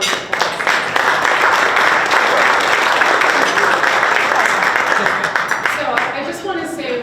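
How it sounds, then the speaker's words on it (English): Dense applause from an audience at a golf tournament reception, steady and close for several seconds before tapering off, with scattered voices in the crowd. "please give yourselves a big round of applause"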